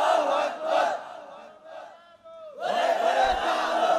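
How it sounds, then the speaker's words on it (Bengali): A large crowd at a religious sermon gathering shouting "Allahu Akbar" together in response to a takbir call, two loud massed roars separated by a brief lull, forceful and reverberant. "একজন নারা তাকবীর দিবে, সবাই আল্লাহু আকবার দাও।"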